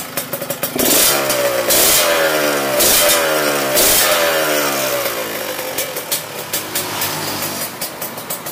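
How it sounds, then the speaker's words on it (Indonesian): A 1996 Yamaha RX-King two-stroke motorcycle engine revs up and down in a series of loud, close blips, dropping to a rougher idle with light rattling toward the end. "suara mesinnya adem ya suara kerabotnya kemerincing"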